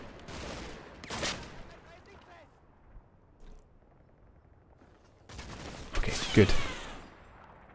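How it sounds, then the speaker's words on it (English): Sustained suppressive gunfire in the World War II game Combat Mission: Battle for Normandy, with rattling bursts at the start and a louder volley near the end, as someone speaks briefly over it. "So we're just going to keep up this suppressive fire for now."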